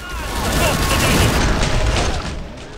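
Grenade blasts in the game Killing Floor 2, a loud rolling rumble of explosions and mechanical clatter swelling and fading over a few seconds, dense and noisy with no distinct separate bangs.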